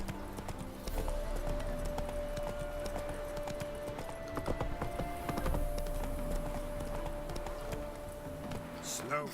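Hooves of Roach, the horse in The Witcher 3, clip-clop steadily in a galloping rhythm through the whole stretch, with game music and ambience underneath and someone talking over it.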